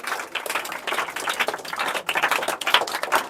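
Applause in a classroom, a dense run of rapid hand claps from a group of students that carries on steadily for several seconds with small swells, with no talking over it.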